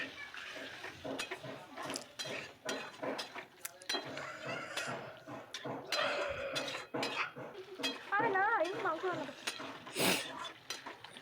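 Country chicken curry with potatoes and added water being stirred in a pan, with repeated scraping, clinking utensil strokes against metal and someone talking over the cooking.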